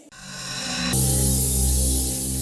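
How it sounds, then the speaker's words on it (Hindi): A spray can hisses steadily onto scraps of burnt paper at a crime scene, a continuous loud, close spray after a brief start, lasting about two seconds. "जरा स्प्रे देना प्लीज"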